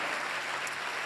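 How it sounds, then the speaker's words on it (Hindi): A church congregation applauds loudly at a pastor's urging, a dense steady wash of clapping filling the room without a break and with no voices heard above it. "जोरदार तालियां बजाएं"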